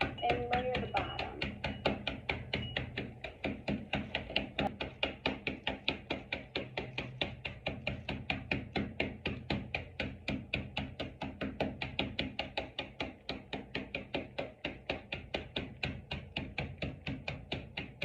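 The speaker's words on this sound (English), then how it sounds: "grab a spoon and start crushing. Cookies, literally like this." Cookies crushed with a spoon in a bowl for a layered lemon pudding, a fast steady run of crisp tapping crunches repeating evenly throughout, close and alone.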